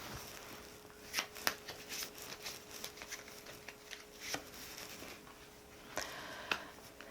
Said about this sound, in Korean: 좋은 카드 한 장 뽑아 보겠습니다